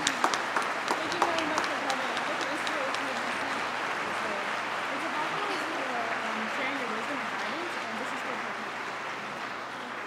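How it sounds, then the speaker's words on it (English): Audience applause for environmentalist David Suzuki at the 2014 Ready Summit, a steady wash of clapping filling the whole stretch while a voice speaks over it near the start. "Please give one more round of applause for the fantastic David Suzuki"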